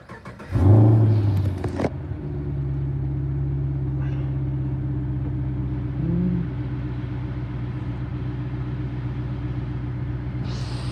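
A black HSV VF Clubsport R8 automatic with about 88,000 km fires up with a loud starter whirr and flare, then settles into a deep, steady, rumbling V8 idle, with no voices.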